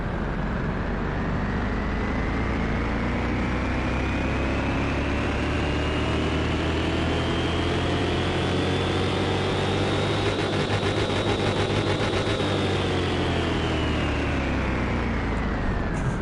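Car engine revving on a dyno in the Car Mechanic Simulator game, a loud, sustained roar that rises steadily in pitch over many seconds, peaks, then eases slightly, with no talk over it.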